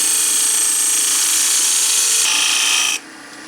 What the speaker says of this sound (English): let me just going to use a small bowl gouge